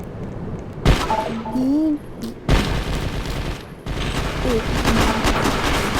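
Gunfire in the Roblox video game comes as a few sharp, loud blasts mixed with tonal in-game sound effects, close and punchy against a continuous noisy background.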